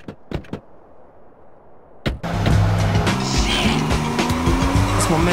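A car driving in the video game GTA San Andreas, with a few sharp transient hits first and then a loud, steady engine and road rumble for the rest of the clip.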